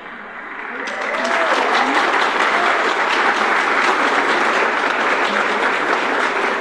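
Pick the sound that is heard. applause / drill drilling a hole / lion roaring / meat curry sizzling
applause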